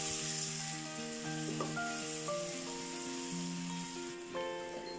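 Ginger garlic paste fries in a pan with a strong, continuous close-up sizzle and hiss. Soft background music plays underneath throughout.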